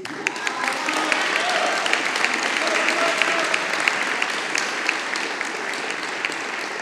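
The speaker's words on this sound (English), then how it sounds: "let me please reserve a special round of applause to Mr. Salcioli" An audience at a graduation ceremony gives a sustained round of applause, dense clapping from many hands filling the room steadily throughout, with a voice faintly heard beneath it.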